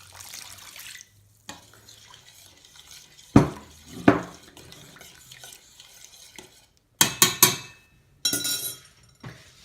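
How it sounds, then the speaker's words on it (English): A spoon stirs a mixture in a bowl, giving a few separate bursts of scraping and clinking with quiet gaps between, close and moderately loud. "Stir it up"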